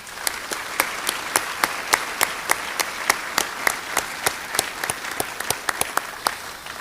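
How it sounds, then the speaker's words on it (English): Round of applause from an audience at an employee of the year awards ceremony, steady clapping with distinct sharp hand claps standing out in a regular rhythm, moderately loud and continuous throughout. "Let's give them all a round of applause as well."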